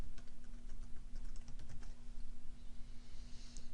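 Someone types words on a computer keyboard, faint quick key taps in short bursts over a steady background hum, with no talking.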